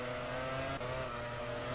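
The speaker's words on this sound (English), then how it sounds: "We can hear the cars, we can hear what's happening." Electric race cars at the 2014 Chinese V-Prix, Formula E round 14, give a steady, continuous whine with a constant tonal hum, heard without talk and staying at an even loudness throughout.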